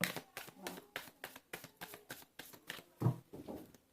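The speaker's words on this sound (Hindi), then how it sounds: "this is my last shuffle" Tarot cards shuffle in quick, rhythmic riffles close to the microphone while someone talks over them throughout.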